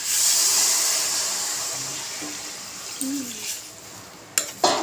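Water poured into potato curry in a hot pan sets off a loud sizzling hiss that slowly fades, followed by a few clinks of utensils against the pan near the end.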